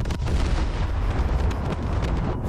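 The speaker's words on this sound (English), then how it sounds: "Come on, main guns, aim. What's taking the main gun so long?" Main guns of the USS Arizona battleship in a naval video game, heavy booming blasts rumbling continuously and loud, with deep low-end roar filling the whole stretch.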